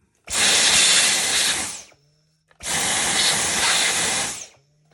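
A vacuum cleaner sucks dust out of a Roomba self-emptying base in two loud, steady bursts of roughly one and a half seconds each, separated by a short pause.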